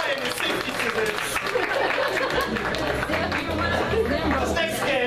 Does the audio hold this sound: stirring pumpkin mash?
no